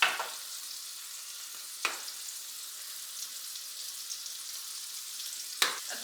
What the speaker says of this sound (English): Sear it on both sides, please.